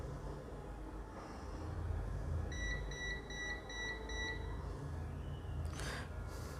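A repeating electronic beep from a multimeter continuity test on a Samsung F23/M23 phone board during mobile repair, pulsing steadily at mid-level over a low workshop hum with no talking.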